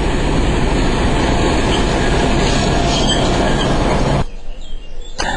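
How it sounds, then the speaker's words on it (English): A passenger train runs from Nuremberg and Munich toward Prague, with a steady, loud rumble of wheels and carriage noise that fills the space, then drops abruptly to a much quieter hum near the end. "As we're running late on this train coming from Nuremberg and Munich to Prague"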